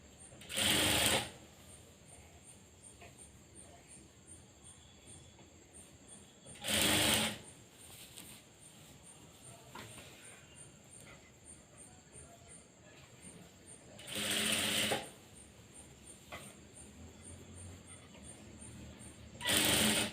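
A sewing machine stitches a blouse sleeve in four short bursts of loud whirring, separated by quieter gaps with faint handling sounds and a little soft speech.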